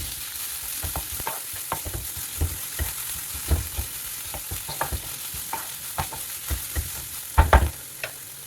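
Crushed garlic and ginger fry in a hot pan, a steady crackling sizzle broken by repeated scraping stirs and a few louder clatters near the end, close and with no voices.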